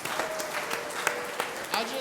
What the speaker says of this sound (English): A big clap hand for the children.